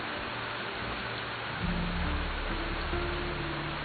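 Steady rain pours down with a dull rumble of thunder that rolls in partway through and lingers low in the background, moderately quiet and even, with no voices.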